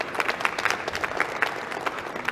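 Audience applause after a talk on sector and regional risk in credit analysis, a steady patter of many hands clapping at moderate volume, continuous across the short stretch.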